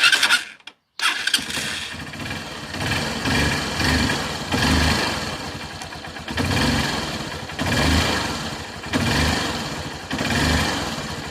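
A Honda CB 125 E motorcycle idles during a carburetor air adjustment, starting after a brief silent gap and running steadily with a light, slightly uneven putter and small swells in revs.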